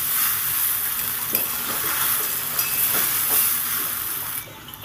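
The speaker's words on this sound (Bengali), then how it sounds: "এই গোলমরিচের গুঁড়ো দিয়ে ভালো করে আমি পুরো চাউমিনটাকে সুন্দর করে নেড়ে চেড়ে দেবো" Egg chowmein stirred in a hot pan with pepper powder, a steady loud sizzle with soft scraping and tossing strokes at irregular intervals that cuts off abruptly at the end.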